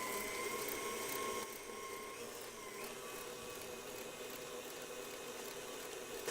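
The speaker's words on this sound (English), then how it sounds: "This is one of my favorite kitchen appliances, is my KitchenAid stand mixer." A KitchenAid stand mixer beating butter and sugar, a steady motor whir with a faint high whine, slightly louder for the first second and a half, then running evenly with no voices.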